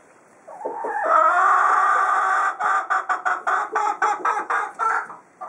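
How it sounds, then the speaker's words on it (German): Hens squabbling in a coop give a loud, close burst of agitated squawking and cackling, followed by a rapid run of choppy, rhythmic clucks. "Es gibt so zickige Hühner."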